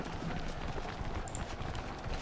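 Horses galloping in the Civil War strategy game Ultimate General: Civil War at Gettysburg, a steady rapid patter of hooves mixed into a dense battlefield din.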